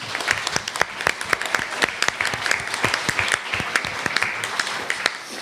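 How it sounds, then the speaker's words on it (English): Audience applause filling a room at the close of a political speech event, a dense, steady wash of many hands clapping with sharp individual claps standing out, sustained for several seconds at fairly close range. "Give yourselves a round of applause."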